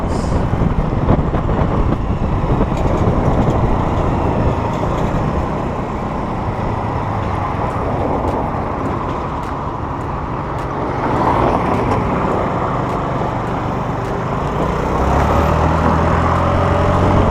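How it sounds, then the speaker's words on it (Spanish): Rumbling city traffic surrounds a small Honda Navi motorcycle while riding, with a constant low engine and road drone, wind buffeting, and passing vehicles swelling and fading, and no talk. "ahorita vamos a adentrarnos a la ciudad entre el tráfico"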